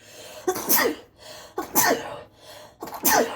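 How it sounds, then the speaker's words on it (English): A close, loud sneeze with a quick breathy intake before it, heard three times in a row with short pauses between. "I'm going to sneeze"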